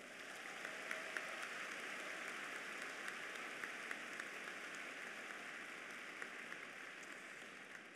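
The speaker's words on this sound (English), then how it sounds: "Would you give them all a round of applause?" Applause from a large crowd at a 2014 spring undergraduate commencement ceremony, a continuous distant patter of many hands with faint sharper claps poking through, rather quiet and steady throughout.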